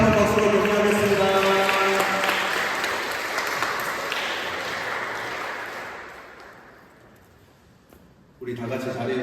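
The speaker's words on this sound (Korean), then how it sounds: "네, 다시 한번 박수로 격려하겠습니다." A church congregation applauds during a Sunday worship service, a broad wash of clapping that gradually fades away over several seconds, with a voice heard over the opening moments.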